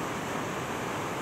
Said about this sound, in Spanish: Ya se sienten el sonido bravísimo